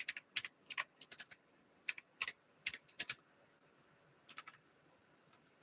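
Someone types a search on a computer keyboard in quick, uneven bursts of crisp key clicks, close and fairly quiet, with short pauses between groups and no talking.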